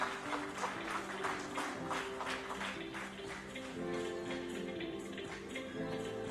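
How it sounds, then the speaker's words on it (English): Audience clapping at an industrial association conclave hall, steady and moderately loud throughout, blended with a faint sustained tonal background. "I'd love to see the same applause for other speakers as well"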